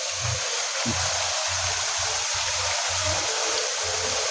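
Water fountain at Hotel Sukhsagar, a steady broadband splash and rush of falling water running continuously at close range, with low pulsing thumps underneath.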